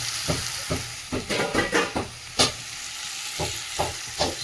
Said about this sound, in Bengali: চলো নুন হলুদ দিয়ে তো কুমড়ো আলুটা একটু নেড়ে নিচ্ছি